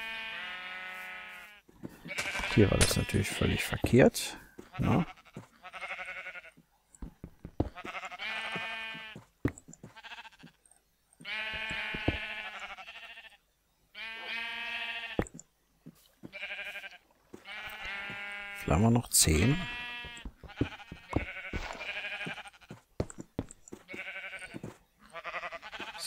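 Sheep in the video game Minecraft bleat repeatedly in bursts throughout, some loud and close, others softer, while someone speaks German in between.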